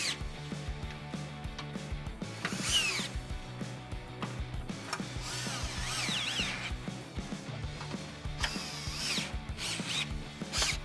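A 13mm socket on a ratchet tightens the tailgate hinge bolts on a 2007-2018 Jeep Wrangler JK, giving bursts of rapid clicking ratchet strokes with short pauses between them, close and fairly loud.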